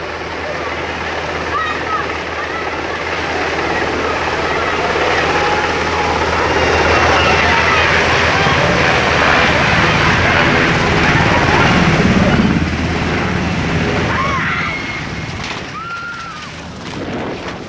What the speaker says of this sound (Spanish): solo se observan las luces del helicóptero que desciende